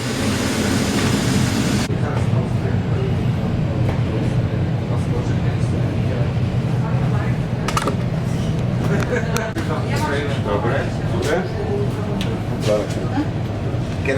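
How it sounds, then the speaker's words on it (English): Loud, continuous rumble and rattle of a train carriage in motion on a trip from Poland to Ukraine, steady low roar throughout with occasional clanks and voices under the noise. "noisy train"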